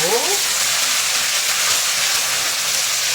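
Mushrooms, potatoes and carrots sizzle steadily in a hot pan as they are stir-fried for a home-style curry, giving a loud, even crackle that stays close and constant, with a brief voice at the very start.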